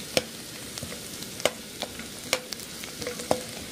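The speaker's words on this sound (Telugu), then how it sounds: "సో రుచికి సరిపడా సాల్ట్ దీన్ని వేసేసి మొత్తం కలిపేయండి" A spoon stirs veg momo filling with salt in a pan, giving scattered scraping clicks and soft taps over a faint sizzle, fairly close and quiet with no talk.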